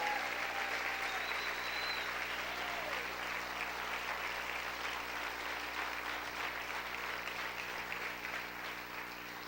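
A church congregation applauds steadily, a dense, even wash of clapping that holds at a constant level for the whole stretch, sounding moderately distant, with a faint voice and a little tonal music in the background.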